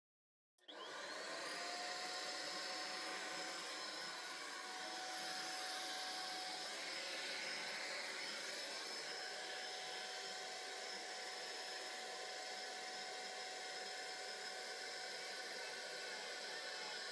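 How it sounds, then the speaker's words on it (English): A vacuum cleaner sucks dust out of a desktop PC opened for cleaning and a RAM upgrade, switching on abruptly and then holding a loud, steady whine and rush of air for about sixteen seconds. "Here we go, the vacuum again."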